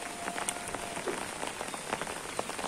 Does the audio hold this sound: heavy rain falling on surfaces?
yes